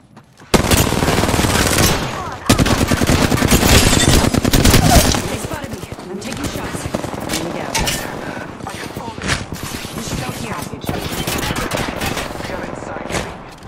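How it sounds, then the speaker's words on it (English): Rapid automatic gunfire in an Apex Legends–style battle royale game, loud, sustained bursts roughly half a second in, followed by further looser volleys and scattered shots, with a player talking over it. "Shots fired at me."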